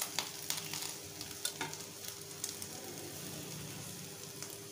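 Ghee with grated fresh coconut and jaggery for mango modak filling crackles and sizzles softly in a pan as it is stirred, with irregular scraping ticks close by and no talk.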